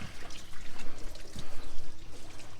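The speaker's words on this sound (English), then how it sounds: "Go ahead and spray down both really well with some Dawn dish soap and water." A plate is sprayed with Dawn dish soap and water, giving close, pulsing hissing and wet splashing in quick uneven bursts.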